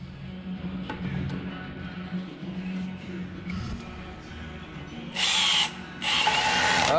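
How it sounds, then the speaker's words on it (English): A low hum runs underneath, then a power drill whirs in two short, loud bursts near the end. "I'll teach you how to use a drill."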